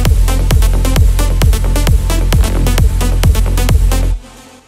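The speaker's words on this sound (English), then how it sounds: "This track before the mastering sounds like this." An unmastered electronic future-rave track made in FL Studio plays loud and dense, with a steady pounding kick beat under bright synth layers, then cuts off abruptly near the end.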